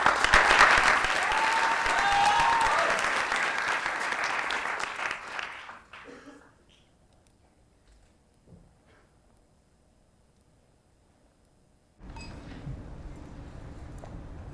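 Loud applause from an audience at a French pleading contest final, filling the opening seconds before tapering off into near silence, then a quieter room with low murmuring returns.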